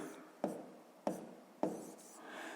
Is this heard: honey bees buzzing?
no